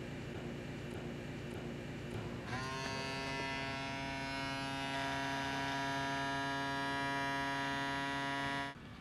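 A Neutronics refrigerant analyzer hums steadily while testing R-22 gas from a recycling cylinder; a low background drone jumps into a louder, tonal whine after a couple of seconds and holds evenly until it cuts off near the end.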